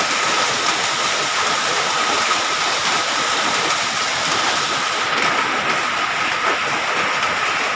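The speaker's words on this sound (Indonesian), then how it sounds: "Hujannya sangat deras." Heavy afternoon rain pouring down in the city of Lhokseumawe, a dense continuous roaring hiss, loud and steady throughout, with no voices audible.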